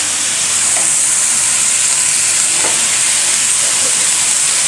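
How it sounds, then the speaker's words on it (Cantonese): Vegetables stir-fry in a wok with garlic and shallots, a loud, dense sizzle and hiss with a few faint scrapes, steady and close for the whole stretch. "咁我哋呢，就將我哋嘅蔬菜呢倒返落鑊。"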